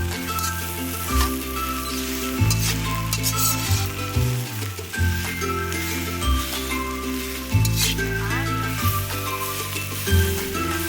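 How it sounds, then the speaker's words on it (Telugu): Palak and gongura leaves sauté in a hot pan, a steady close sizzle with stirring scrapes and faint clinks of the spoon against the pan, with no talking. "ఈ పాలాకు ఈ గోంగూర బాగా మిక్స్ అయ్యి మరి కలుపుకొని రెండింటిని బాగా మగ్గనిద్దాం"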